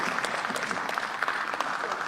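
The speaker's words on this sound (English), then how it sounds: "especially those who are clapping now" Members of parliament clap during a parliamentary session, a steady patter of many hands heard at moderate volume from across the chamber, continuous throughout with scattered sharper claps standing out.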